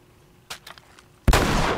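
Gunfire in The Last of Us Remastered: a few quick, light shots, then one loud close blast that rings out and trails away into a sustained noisy tail, with no talking.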